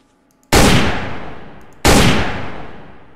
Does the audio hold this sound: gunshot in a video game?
yes